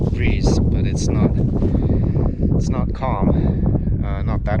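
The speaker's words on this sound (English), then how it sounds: "It's going to blow right in the microphone." Strong wind buffets the microphone outdoors near water, a constant low roaring rumble that runs through the whole stretch beneath a voice talking.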